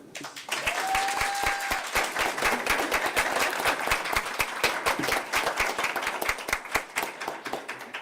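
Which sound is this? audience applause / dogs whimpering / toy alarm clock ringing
audience applause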